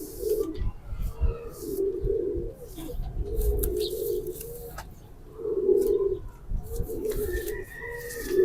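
Green Chena pigeons coo repeatedly nearby in soft, throaty, rolling phrases, with faint rustling between calls.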